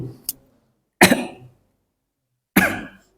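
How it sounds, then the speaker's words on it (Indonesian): Two sharp, loud coughs close by, spaced about a second and a half apart, following a brief faint click. "Mohon maaf, ini agak batuk-batuk ini."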